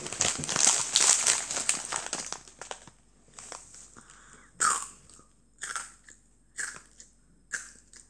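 A child bites and crunches ramen snack crackers close up: a burst of dense crispy crunching and crinkling at first, then slower separate bites with gaps of near silence.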